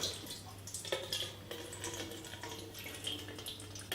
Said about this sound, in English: we'll just pour that buttermilk off